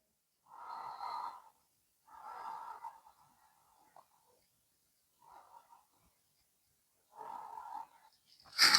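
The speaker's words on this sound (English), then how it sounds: "Two more breaths here." Slow, deep breaths during a lower-body yoga stretch: four or five soft, close inhale and exhale passes separated by quiet pauses, ending with a brief louder rustle.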